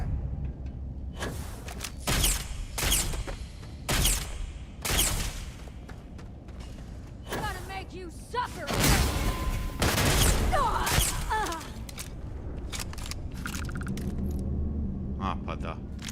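Grenade launcher blasts from the space game Starfield come as a string of heavy booms with rumbling tails, loud and close, spaced irregularly over a sustained roar of combat noise.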